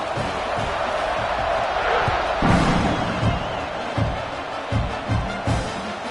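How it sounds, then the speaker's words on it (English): A stadium crowd in the video game College Football 26 keeps up a steady, dense roar, with occasional thumps and swells rising through the noise. "this crowd is buzzing after that last score"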